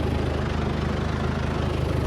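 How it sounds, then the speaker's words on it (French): An old tractor engine running steadily in gear during old-fashioned haymaking, a continuous low, even rumble that stays loud and close throughout with no voices. "on mettait le tracteur en A1, il voyageait tout seul"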